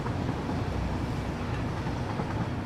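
A train runs in the factory-building video game Satisfactory, giving a steady, even rumble with a faint rhythmic rail clatter throughout, heard alone without speech.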